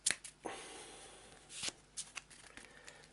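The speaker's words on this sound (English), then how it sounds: "So another quick shuffle, let's find investigator number 2." Cards for the Elder Sign board game are shuffled quickly, giving a short run of soft, papery riffles and flicks, quiet and close, with no one talking.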